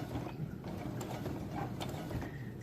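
A sewing machine running briefly in reverse to lock the stitch on a fabric face mask, a steady mechanical whir and ratcheting clatter at moderate level.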